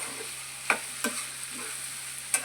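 A pan curry of eggplant, egg and salty dried fish being stirred over a quiet low sizzle, with four or five distinct scraping strokes of the spoon spaced through the moment; nobody speaks.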